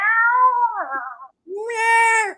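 A person imitates a cat with two drawn-out meows, the second higher and brighter, sounding close and fairly loud.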